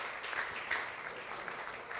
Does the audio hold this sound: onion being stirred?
no